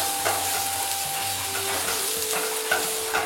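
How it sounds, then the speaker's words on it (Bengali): Garlic and ginger paste fries with onions in a kadai, giving an even, close crackling sizzle and the scrape of stirring throughout, with a faint thin hum running under it and no voices. "রসুন বাটা ও আদা বাটাটা দিয়ে কাঁচা গন্ধটা চলে যাওয়া পর্যন্ত ভাজুন"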